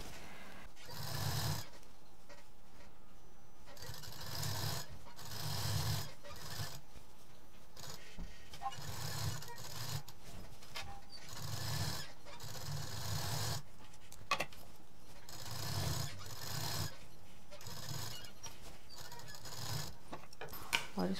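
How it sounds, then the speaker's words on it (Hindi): A sewing machine runs in repeated short bursts while stitching a rounded finishing seam on a large three-pocket shoulder bag with a zip and belt strap, each run of rapid stitching broken by brief pauses. "यहाँ पर एक फिनिशिंग की मशीन चला देंगे गोलाई से"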